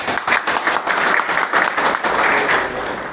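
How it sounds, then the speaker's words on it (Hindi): A crowd at a Congress party gathering in Chandigarh applauds to welcome a newly named state office-bearer, loud dense clapping sustained for a few seconds. "तालियों से इनका स्वागत है।"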